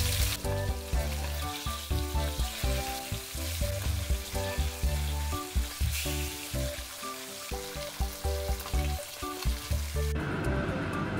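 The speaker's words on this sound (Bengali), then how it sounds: "এক পিঠ ভাজা হয়ে গেছে, আমি মাছটা এবার উল্টে দিচ্ছি" A flipped pomfret fish keeps frying in hot oil, making a continuous close hiss and spatter with light pulsing bursts. Background music plays beneath, and the sizzle cuts off abruptly near the end.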